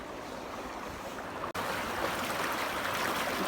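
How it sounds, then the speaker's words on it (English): A rain-swollen stream rushes fast and steady, a loud continuous close-up wash of flowing water with a brief dropout midway. "See how much it's rained by how fast the water's flowing through here."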